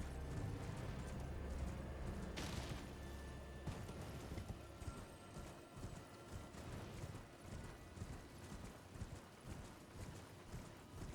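A horse's hooves clip-clop steadily on the ground in the video game Elden Ring, a quick even rhythm of fairly close, moderately soft hoofbeats over game ambience, with no talking.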